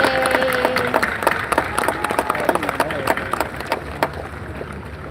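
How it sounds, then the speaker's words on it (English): A graduation crowd at the UCLA medical school ceremony claps and cheers for graduates' family and friends, a loose patter of applause with scattered whoops while a voice calls out over it. "Let's give them another round of applause."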